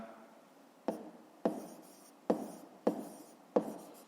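Pen writing on paper during a fifth-grade math exercise, five quiet, close scratching strokes spaced about half a second to a second apart, with soft rubbing between them.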